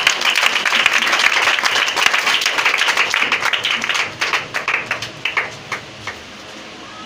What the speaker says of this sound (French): Est-ce que tu peux encore donner acclamation?